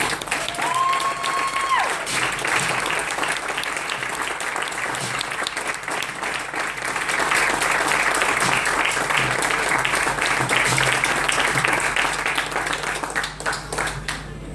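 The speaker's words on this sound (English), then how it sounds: "let's give them a huge round of applause" A long, sustained round of audience applause honoring doctors and nurses, thick, even clapping from a large crowd lasting throughout, with a faint tone and some background voices mixed in.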